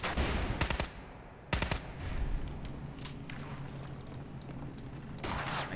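An enemy fires a gun at the player in Fallout 4: several sharp, separate bursts of gunfire crack out at close range over a steady low game ambience, with no one talking.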